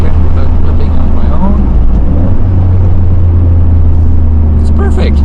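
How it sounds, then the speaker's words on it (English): A Toyota GR Corolla hot hatch with an intelligent manual transmission rev-matches on a downshift from third to second, giving a loud, steady low engine drone with a slight shift midway, under a voice. "the rev match on downshift, so third, downshift to second"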